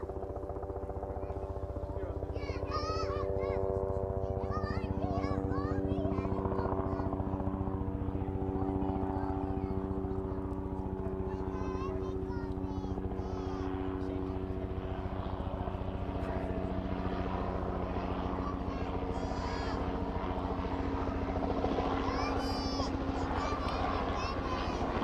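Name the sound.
helicopter descending to land on runway at East Midlands Airport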